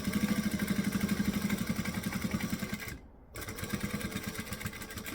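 A sewing machine stitches a utility belt, its needle chattering in rapid, even pulses. The run breaks off in a brief pause and then resumes at the same close, steady rate.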